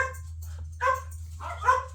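Dogs barking indoors at a distance, a few separate faint barks over a low steady hum, with no talk.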